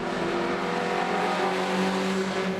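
MG Trophy race cars dicing on the circuit at Donington Park, engines droning steadily at a distance, a continuous mid-pitched hum with slight rises as they pass, no voices.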